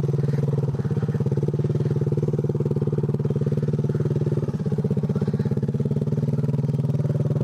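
Three-wheeler ATV engine, a 185, running steadily while ridden over a flat cement-like surface, with a close, loud, even putter and rapid pulsing throughout, no talking.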